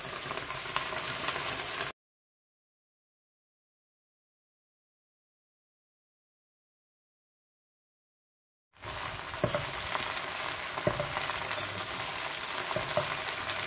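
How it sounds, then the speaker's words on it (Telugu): Gongura (sorrel) leaves frying in oil for an Andhra-style gongura pachadi give a steady, close sizzle, broken by a silent stretch before the crackling frying resumes with occasional louder pops. "ఇది బాగా వేయించుకోవాలి"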